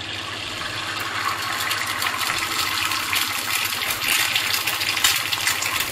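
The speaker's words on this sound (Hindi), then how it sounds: "ऑयल थोड़ा गर्म हो जाए तो इसमें हम अंडा डालेंगे।" An egg frying in hot oil in a pan gives a steady, dense hiss of sizzling that holds at an even, moderately loud level throughout, with no talking.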